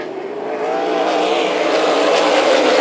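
A pack of stock cars in a short-track oval race roars back to speed on a restart, a loud sustained engine drone swelling after the first half second and holding steady, with no talk over it.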